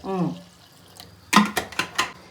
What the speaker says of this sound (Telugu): దానికైతే నేను ఒక 1 లీటర్ ఆఫ్ వాటర్ పోసుకుంటున్నా